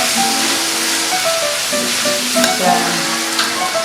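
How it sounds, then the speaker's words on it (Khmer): Pork with spices and morning glory stir-fried in a hot pan gives a steady, loud sizzle and hiss, broken by scraping stirring strokes throughout. "កូរសពជាមួយសាច់ហ្នឹងទៅដើម្បីឲ្យគ្រឿងយើងចូលជាមួយនឹងសាច់"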